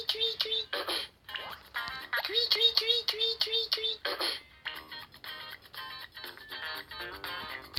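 A human voice mimics a finch's song by mouth with rapid chirps and short trilled phrases, repeated in bursts, followed by more varied warbling notes.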